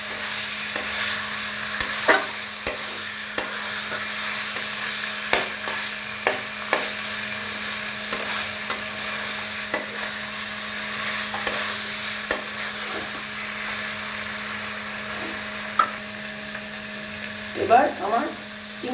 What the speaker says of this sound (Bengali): এবার চিংড়িগুলোকে মশলার সাথে ভালো করে একটু কষিয়ে নেব।